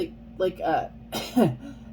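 A woman clears her throat with a couple of short, rough bursts close to the mic, amid low room noise.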